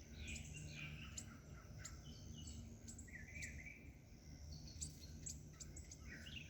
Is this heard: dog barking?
no